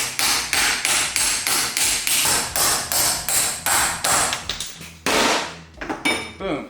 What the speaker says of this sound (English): I can hammer it.